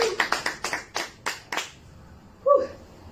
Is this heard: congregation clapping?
yes